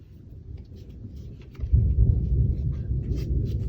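Thunder from a storm: a low, heavy rumble that swells suddenly partway through and then rolls on steadily. A fainter rumble sits under it beforehand.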